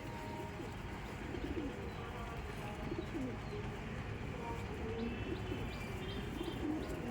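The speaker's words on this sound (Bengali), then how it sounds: "এই দারুণ পায়রা" Pigeons coo softly in a loft, repeated low throaty calls mixed with light chirps over a steady hum of background noise.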